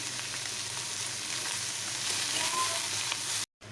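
Cumin seeds sizzle and fry in hot oil for a Bengali home-cooked dish, with a steady bright hiss throughout that cuts off into brief silence near the end.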